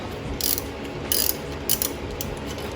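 A ratchet wrench cracks loose a 12 mm bolt while a water pump is being changed on a Honda Prelude H22/F20B engine, giving three short bursts of ratcheting clicks, close and clear with pauses between them.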